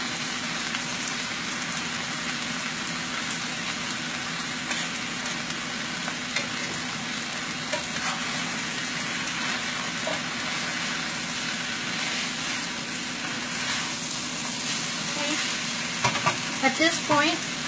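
Chicken lo mein noodles stir-fry in a hot pan, giving a steady loud sizzle and hiss with stirring scrapes throughout and a few sharper clatters near the end.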